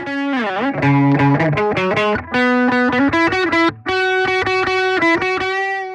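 Heavily distorted electric guitar through a Klevgrand Stark amp simulator plugin, playing a melodic riff of sustained notes and bends, with short breaks between phrases, loud and upfront.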